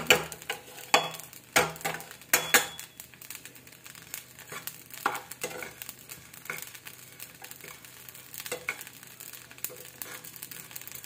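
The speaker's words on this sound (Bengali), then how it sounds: "তারপরে এই যে ভাজতেছি" Food fries in a pan with a low, crackling sizzle while being stirred slowly. Scraping and clattering strokes come thick at first, then turn sparser and softer, and no one speaks.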